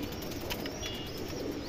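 A restless pigeon in its cage, soft flutters and rustling with a faint low cooing, close and quiet with no talking.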